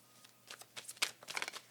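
Tarot cards being shuffled by hand, a quick run of soft papery riffles and taps with one crisp snap in the middle, close and fairly quiet, no talking.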